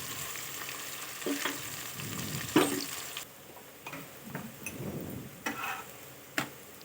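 Curry leaves, cloves and cinnamon fry in hot oil in a pan for bagara rice, giving a steady close sizzle broken by a few sharp stirring clicks and scrapes, with no voices.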